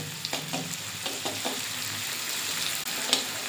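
Onions with a little sugar frying in oil in a pan for a jackfruit and prawn curry, a steady close sizzle broken by several scraping stirs of a utensil, no talking.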